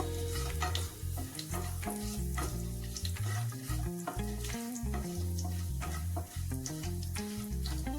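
Nigella seeds, a dried red chilli and two bay leaves fry in hot oil, giving a continuous close sizzle with stirring and clattering touches throughout.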